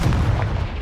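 Stupefy spell cast in Hogwarts Legacy, a short, loud booming magical blast with a dense low-end rumble, heard alone with no talking over it.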